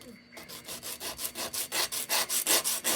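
Brass being sanded by hand for a mill lantern, a close, steady back-and-forth rasping repeated about a dozen times, each stroke loud and rhythmic.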